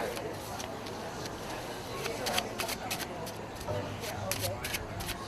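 Repeated riffling of a card deck in short, crisp bursts during a street magic trick at a festival, with a person talking throughout.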